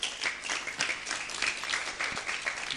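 Applause from a church broadcast audience cheering the Lord: dense, steady clapping from a crowd lasting a few seconds with no break.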